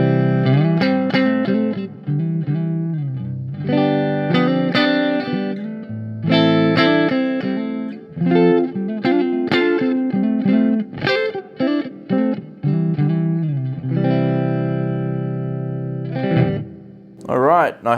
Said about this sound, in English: Over to the clean channel of the amplifier now, and I'm over to my Fender Telecaster.